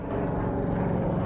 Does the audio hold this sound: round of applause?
no